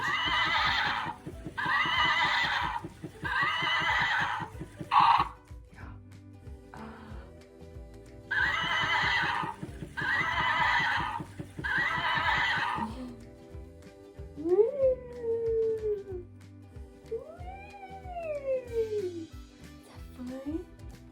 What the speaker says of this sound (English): The horsey.